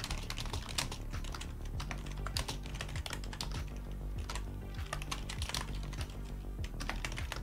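Rapid, uneven clicking of keys on a computer keyboard as someone types a message, with steady close-up keystrokes and no talking.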